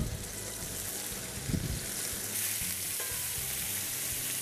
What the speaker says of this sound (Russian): Обязательно нужно следить за мясом, когда оно жарится